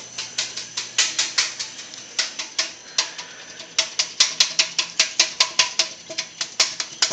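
Forty-four Arduino UNO–driven solenoids with PWM shields click in rapid, uneven bursts of sharp close taps, sometimes clustered into fast trills, with brief gaps between runs and no talk.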